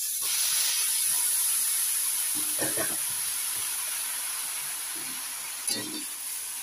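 Coconut pulp (sapal) toasts in a hot, dry clay pot over medium heat with no oil, giving a steady close sizzling hiss with a few soft stirring scrapes.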